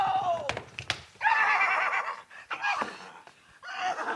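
A horse in an animated Tintin cartoon whinnies loudly as it stops, with a shrill, wavering neigh and a couple of sharp hits and snorts, repeated in short bursts among exclaiming voices.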